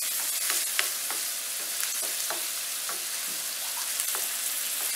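Onion fries in a pan, giving a constant bright sizzle with scattered crackles and a few light scrapes of stirring, close and steady throughout.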